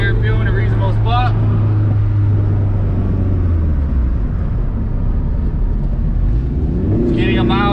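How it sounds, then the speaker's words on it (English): Turbocharged third-generation Honda Prelude with an H22 engine driving on the street: a loud, steady low engine drone that holds throughout, with someone talking briefly over it at the start and end. "got the car up and driving"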